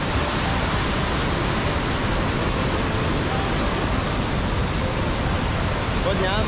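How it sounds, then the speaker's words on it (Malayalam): Water from a small stream flows over a small dam in Munnar, a loud, steady rush of falling water close by, constant throughout. "ഒരു തോട് പോലത്തെ വെള്ളം ഇങ്ങനെ വന്നിട്ട് ഇവിടെ അടച്ച് നിർത്തിയിട്ട്"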